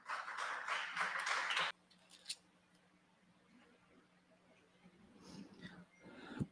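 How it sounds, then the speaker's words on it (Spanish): A church congregation applauding during a sermon, a loud dense burst of clapping that stops abruptly after under two seconds, followed by quiet room tone and faint scattered sounds. "Un aplauso al Señor entonces."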